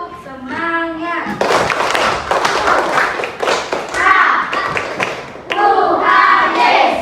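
A classroom of children does the tepuk semangat rhythmic clapping game, with bursts of patterned hand claps and thumps between loud group chanting and an adult voice leading, all close and lively.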